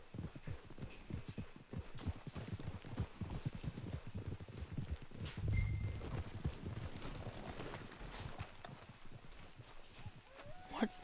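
Horse hooves clip-clop at a steady trot along a trail in Red Dead Redemption 2, the rhythmic thuds continuous and fairly close, with soft ambient game sound beneath.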